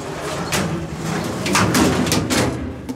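Foley imitation of a large hydraulic metal structure moving: a sustained grinding, scraping drone with rough metallic creaks and several sharp bursts over about three seconds, loud and close.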